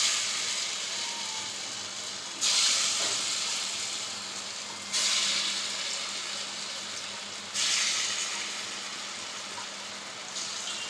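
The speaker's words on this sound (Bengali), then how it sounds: "এবার আমি এটা আস্তে আস্তে হালকা এতে ভেজে নেব।" Vegetable pieces frying in hot oil on a gas stove for a Bengali dhokar dalna, a steady bright sizzle that swells in several loud bursts as more is added, then settles back to a softer hiss, with no voices.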